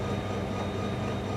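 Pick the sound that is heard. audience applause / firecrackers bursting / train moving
train moving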